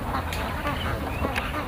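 Ducks quack in a loose, irregular chorus at a Kottayam farm hit by bird flu, with a few sharper calls standing out over a steady background murmur.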